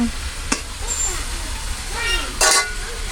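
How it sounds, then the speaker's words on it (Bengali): A mother frying and stirring food in a pan while cooking, a steady sizzle under the scrape of a spoon, with a couple of louder knocks and a voice talking over it. "এই যে আম্মু রান্না করতেছে"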